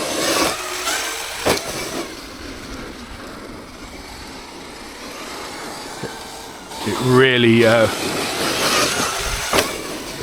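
An 8S Traxxas X-Maxx RC truck with 2046 gearing runs outdoors, giving a rough, fluctuating electric drive noise with a short rising motor whine near the end, under ongoing talk.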